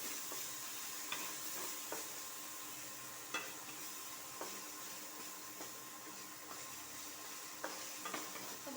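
Whole cloves and cardamom pods sizzle steadily in hot oil in a pan, the start of a chicken khichuri with Gobindobhog rice, with a constant frying hiss and scattered small crackles and spoon taps throughout.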